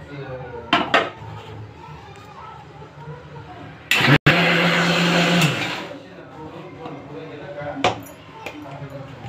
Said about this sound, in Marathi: आपण थोडेसे मूग मिक्सरने बारीक करून घेऊया